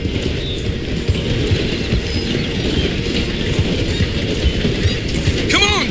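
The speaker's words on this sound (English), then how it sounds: "The train is slowing down to go through the station." A train in Red Dead Redemption 2 rolls along with a dense, rumbling clatter of wheels and carriages, a continuous loud mechanical din and a brief high squeal near the end as it slows.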